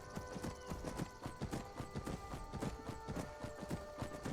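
Horse hooves clip-clopping along a road in the video game Skyrim, a quick even rhythm of fairly faint repeated hoofbeats continuing throughout, with no talk.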